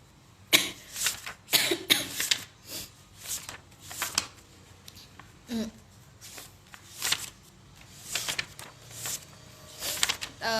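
Repeated short bursts of coughing, close and fairly loud, scattered irregularly through the clip with brief pauses and some background shuffling.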